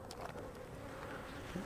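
Honey bees buzz steadily and faintly around a hive, a low, continuous drone with occasional louder passes nearby.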